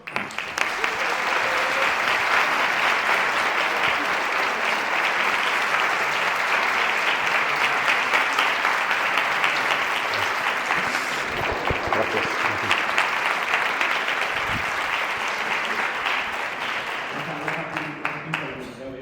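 An audience at the Universitat Plusfresc closing ceremony applauds loudly to welcome a musician, a dense, steady wash of clapping that holds for nearly twenty seconds before tapering slightly at the end.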